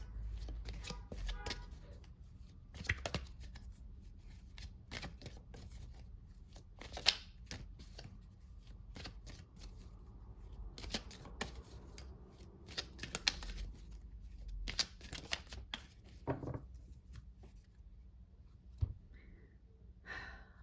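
Tarot cards are shuffled over and over, close up, with crisp riffles and snaps in irregular bursts. Soft breaths and sighs come through between them.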